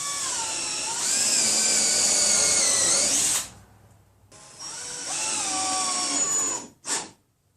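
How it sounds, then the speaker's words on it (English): A power drill drives screws into an upper bookcase for a fireplace surround, two loud close whining bursts separated by a pause, then a short final blip. "So I'm going to go ahead and put like 3 screws in there."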